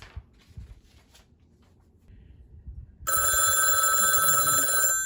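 An emergency telephone starts ringing abruptly partway through, a loud, continuous electronic bell tone that fills the rest of the moment after a quiet, low rumbling stretch.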